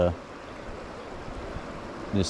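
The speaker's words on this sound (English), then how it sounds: "We got a smooth, soft creek coming out right here into this channel of the river" Steady soft rush of a smooth creek flowing into a river channel in the Montana wilderness, a gentle continuous wash with brief voice fragments at the very start and end.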